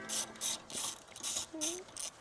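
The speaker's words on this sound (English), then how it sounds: "what we'll do next is gonna be a 10mm deep socket to pull that stud out" A ratchet fitted with a 10mm deep socket clicks in rapid bursts while backing a stud out at the rear of the degas bottle on a 2024-2025 S650 Mustang 5.0L, about six short close-up runs of ratcheting.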